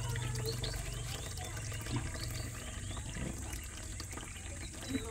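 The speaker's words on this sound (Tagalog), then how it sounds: "tingnan natin yung isang bukal ng tubig dito" Natural spring water flows from rock beside a river, a steady continuous trickle and splash heard close by with faint outdoor background.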